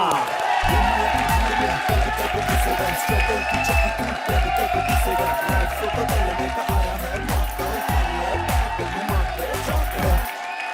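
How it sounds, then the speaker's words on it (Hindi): A studio audience applauds and cheers loudly for a stand-up comedy contestant on a televised comedy show, a dense, sustained wash of clapping and whoops close by with no talk over it. "संदीप नेगी के लिए जोरदार तालियां।"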